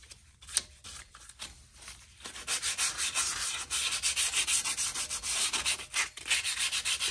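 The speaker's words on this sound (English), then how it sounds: "Take a little bit of sandpaper, clean it up really good." Sandpaper rubs rust off the hub of a BMW 135i N55 during a brake rotor and pad change. Quiet scratches come first, then a steady run of loud, close, rhythmic back-and-forth strokes without talk.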